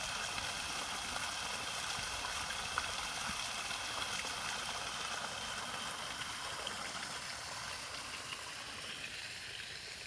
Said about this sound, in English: at the other end it's gushing out over there from a pipe